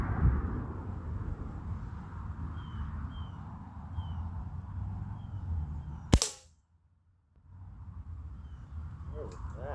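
A single sharp crack of an air rifle shot rings out at an outdoor target range, a brief loud report followed by a moment of quiet before faint outdoor ambience and birdsong resume.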